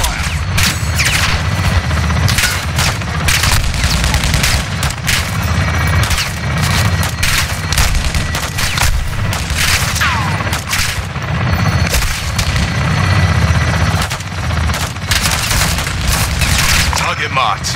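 Intense gunfire in the Call of Duty Modern Warfare 2 video game, dense rapid shots and booms crackling continuously with a helicopter-like rumble beneath, loud and close, with voices talking in places.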